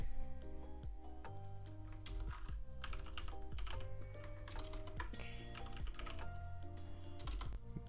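A computer keyboard clatters with rapid, irregular typing, dense clicks and heavier key strikes close to the microphone over faint game music, with no talk.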